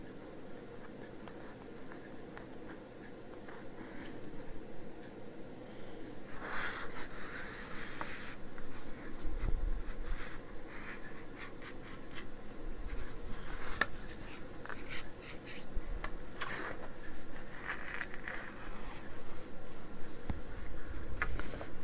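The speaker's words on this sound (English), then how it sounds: "let's fold this page in half." A paper page being folded in half during a craft project, with steady soft rubbing, creasing and scraping as the fold is pressed flat, close and fairly quiet with no talk.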